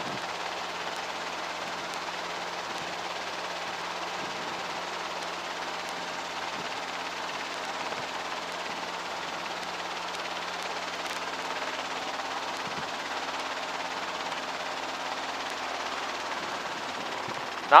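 Small training aircraft engine droning steadily at takeoff power during a flight lesson, a continuous loud hum with a faint tonal whine and no break throughout.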